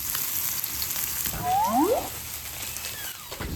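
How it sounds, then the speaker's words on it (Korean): Beef and pork belly grill on a gas-fired grill plate at an outdoor backyard barbecue, giving a steady close sizzle throughout. A few brief high whistling chirps cut through partway. "고기는 이 불판에 가스불로 구워 먹는 게 제일 맛있습니다."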